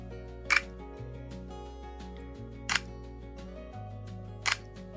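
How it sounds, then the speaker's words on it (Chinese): A Fujifilm X-H2 camera fires single shots with its electronic shutter: three short, crisp clicks spaced about two seconds apart, close and isolated over a quiet hum. "电子快门单张的声音是这样的"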